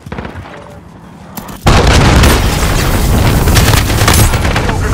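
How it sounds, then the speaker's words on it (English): Cruise missile strike explosions in Call of Duty Modern Warfare: low rumbling and clatter, then a sudden massive blast that turns into a loud, sustained roaring barrage of explosions until the end. "cruise missiles on the way"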